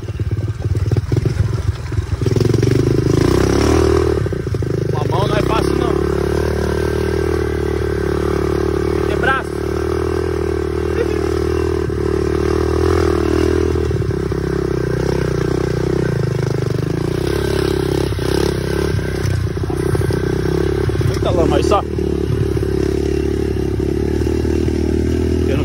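A small motorbike rides over rough ground, its engine a continuous loud drone with clattering and scraping bumps, while people talk over it.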